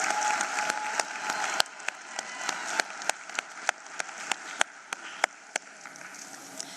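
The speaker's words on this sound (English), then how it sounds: "Let's give him a round of applause." Steady clapping from a crowd with sharp, irregular claps standing out, continuing throughout at moderate loudness, with no voices.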